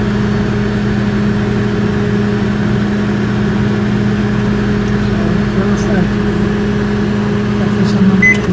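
A microwave oven fitted with a new synchronous turntable motor runs with a steady, loud electrical hum that stays constant throughout, with a faint brief beep near the end.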